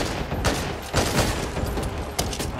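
Rapid bursts of gunfire crack through a zombie co-op shooter game, Back 4 Blood. Several close, loud shots come in quick succession over a continuous noisy backdrop.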